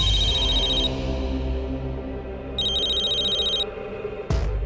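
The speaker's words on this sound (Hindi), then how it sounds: "पवन का फोन 4थी या 5वीं बार कर रहे हैं।" A phone rings in a TV drama scene, with high electronic tones sounding in two bursts over a low background hum and a sharp click near the end.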